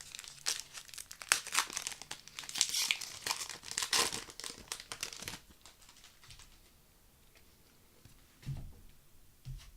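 A Magic: The Gathering Dragons of Tarkir booster pack is slowly opened, its foil wrapper crinkling and tearing in close, crisp bursts that thin out into softer, sparse rustles and a few low taps.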